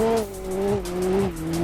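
A JDM car spins out in a Roblox driving game, its tires squealing in tonal wavering skids over the engine's drone in one short, loud slide.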